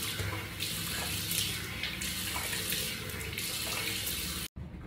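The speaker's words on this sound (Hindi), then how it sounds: "अब हम जी अपना मुंह धोते हैं" Tap water runs steadily into a sink as a face is washed, a loud continuous splashing rush with small shifts in the flow, then a brief drop to silence near the end and no talking.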